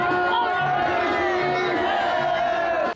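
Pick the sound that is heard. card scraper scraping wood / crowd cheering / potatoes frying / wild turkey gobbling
crowd cheering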